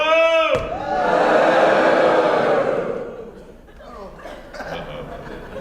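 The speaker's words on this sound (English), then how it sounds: "Let me hear you boo." A concert crowd boos loudly on request in a sustained wave that swells, fades, then rises again briefly with scattered voices and chuckles.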